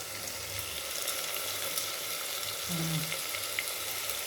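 Onions sautéing with rock salt in a pan for mutton biryani, a continuous even sizzle with a faint stirring sound, close and moderately loud, with no talking.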